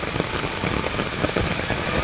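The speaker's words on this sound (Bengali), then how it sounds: "অনেকেই ভিজতেছে বৃষ্টির মধ্যে, অনেকেই।" Heavy rain pours down outdoors near a mosque, a dense, steady patter of drops on surfaces filling the whole short stretch with no voices.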